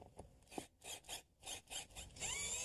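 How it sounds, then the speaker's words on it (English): A screw is driven through a new replacement window into the wooden jamb, giving repeated rasping, grinding bursts in a fairly even rhythm, close and fairly quiet, ending in a longer continuous whir. "I just tighten the screw."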